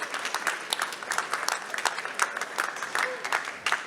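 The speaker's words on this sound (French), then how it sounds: "ils ont bien mérité encore et encore et encore des applaudissements" An audience at a funeral-industry eloquence contest final in Paris applauds three finalists, steady clapping with cheers throughout, close and full.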